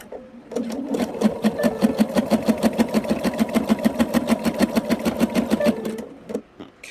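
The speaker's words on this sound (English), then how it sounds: "stitching right to the edge there, turning my project" A sewing machine stitches a layered quilt sandwich, running in a steady rapid rhythm of needle strokes for about five seconds, close and loud, then slowing and stopping as the project is turned at a corner; no speech.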